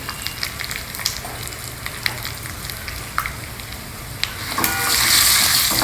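Dals fry together with three or four dry red chilies and hing in a pan, giving a continuous crackling sizzle with scattered sharp pops, swelling louder and brighter toward the end.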